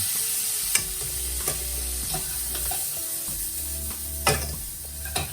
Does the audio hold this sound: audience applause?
no